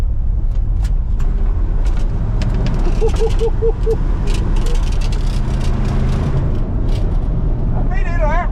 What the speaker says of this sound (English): Running truck.